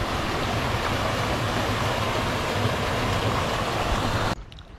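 Broad, steady roar of water rushing from an opened dam fed by the Aare waterfalls in Andhra Pradesh, loud and continuous before cutting out abruptly near the end.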